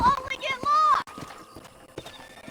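Horse hooves clip-clop at a walk in the Red Dead Redemption video game, light rhythmic thuds mixed under a voiced shout and ongoing speech.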